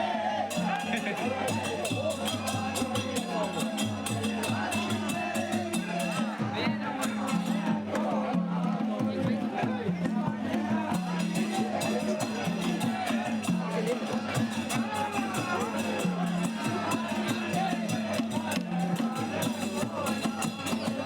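A dense crowd at a religious fair (mela) with devotional bhajan-kirtan singing, a steady wall of babble and chatter that fills the whole stretch at a constant level, with voices mixed throughout.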